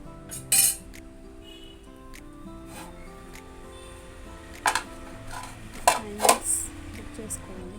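A metal ladle gently stirs a pot of fish curry, giving a few sharp clinks against the pot at irregular moments over a low, steady background hum.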